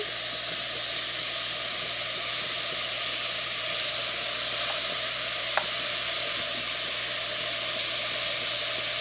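Celery sautéing in a pot for barley soup, a steady broad hiss of frying with only faint traces of stirring, close and even throughout.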